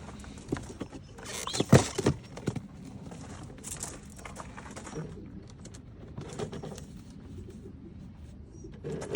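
Young breeding pigeons from a loft give soft, intermittent bird sounds with a few sharper bursts and shuffling, fairly close and moderately quiet, with no voices present.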